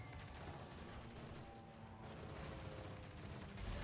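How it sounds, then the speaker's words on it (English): Bombs striking a warship in World of Warships: dense, continuous rumbling blasts and crackling impacts that roll on throughout, with a heavier swell near the end. "That time every bomb hit and caused a fire"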